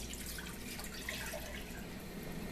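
Chicken broth left from boiling chickens being poured into an Instant Pot, a faint continuous liquid trickle and splash heard quietly and alone.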